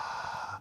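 A single forceful breath pushed out during a Pilates exercise, a close, breathy rush lasting most of a second and trailing off at the end.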